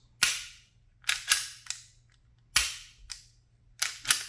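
Dry-fire trigger clicks from a Smith & Wesson Performance Center Bodyguard 2.0 carry compensated pistol: about seven sharp, close snaps in an irregular rhythm, a few paired in quick succession, with a faint low hum beneath.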